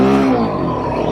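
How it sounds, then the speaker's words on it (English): A Royal Enfield Himalayan Rally 452 motorcycle on knobby tires spins its wheels on pavement, with a loud, close engine roar that holds steady for about a second. "It will spin the tires."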